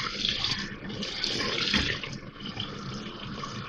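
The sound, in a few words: pouring water into a pressure cooker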